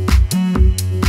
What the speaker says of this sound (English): And then we bring in the clap.